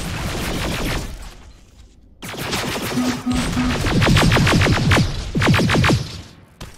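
Gunfire in the video game Terminator Resistance: loud rapid bursts of shots in quick succession, broken by a brief pause, then more dense volleys with crashes and whooshes.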